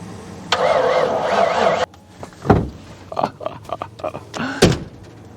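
A Ford F350 pickup engine cranking during a jump start from another truck, a sustained whirring crank followed by abrupt stop, then scattered clunks and short bursts nearby.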